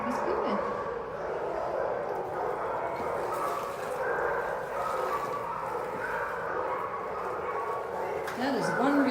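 A puppy whimpers and yips softly while meeting a cat indoors, with people talking warmly throughout.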